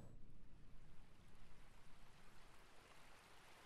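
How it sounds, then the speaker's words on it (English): A waterfall in the video game Dwarf Fortress gives off a faint, steady rushing hiss, like a distant stream, with no other sounds. "We got the waterfall starting there."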